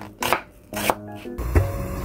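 Onion and butterbur stalks are chopped with a knife on a board in a home kitchen, three separate close knife strikes spaced apart, the last one heavier and thuddier.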